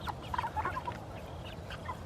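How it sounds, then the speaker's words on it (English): Soft clucking from a rooster, faint and intermittent, set against a steady low background rumble. "we only have one rooster right there."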